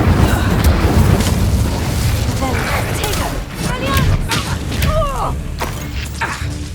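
The Incendio fire spell is cast in the video game Hogwarts Legacy, producing dense rumbling bursts and booms that run throughout with crackling fire-like texture, while voices are heard over the effects.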